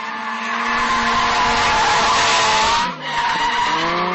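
Drift cars at a King of Europe drifting contest in Moscow keep up a loud, sustained tire squeal, one long screech with a brief dip near the end before it resumes.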